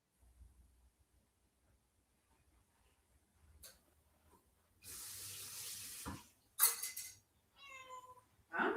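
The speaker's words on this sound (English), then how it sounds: "Meow, meow, meow." A cat meows a few times in short, clear calls near the end, following quiet stretches with a burst of running water from a tap.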